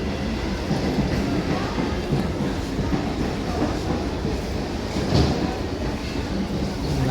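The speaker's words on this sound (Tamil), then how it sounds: "லோக்கல் ட்ரெயின் பாருங்கள்." A local train at a Chennai railway station gives a continuous loud, close rumble with rattling wheel clatter and no break for about seven seconds.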